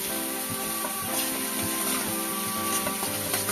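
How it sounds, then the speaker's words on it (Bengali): Grated ginger fries in oil in a pan, giving a steady, close, even sizzle that carries on without a break and with no speech over it. "একটুখানি ভাজা গন্ধ বেরোচ্ছে সুন্দর আদা ভাজা"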